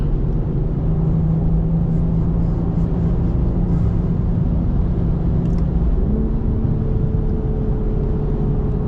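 A BMW M340 cruises down the highway, its engine holding a steady low drone under broad road and wind rumble, with a slight shift in engine tone near the end and no talk.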